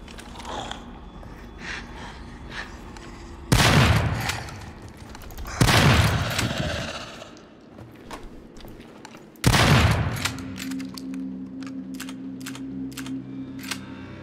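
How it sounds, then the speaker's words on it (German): Three loud pump-action shotgun blasts in the survival horror game Daymare 1998, each a sharp boom followed by a rumbling tail, spaced a few seconds apart over quieter ambient game sounds. "Nach einem Schuss mit der Pumpe."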